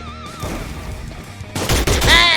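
Burst of gunfire in the mobile battle-royale game Free Fire, a misfired shot crackling loud and close in a short rapid flurry near the end, over a busy game soundtrack.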